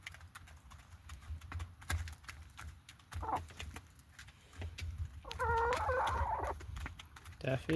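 Chickens and ducks eat poultry feed outdoors, with pecking taps, clucks and a burst of excited calling; someone speaks in between.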